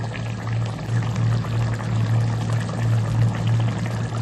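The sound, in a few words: curry gravy boiling in a pot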